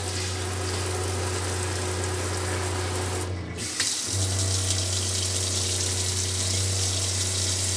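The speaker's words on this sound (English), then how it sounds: "Sweet. Hot and cold water. Let's try the sprayer." An RV bathroom sink faucet runs with a steady, close rushing stream and a low pump hum underneath. It pauses briefly, then resumes as a spray, loud and continuous with no talk.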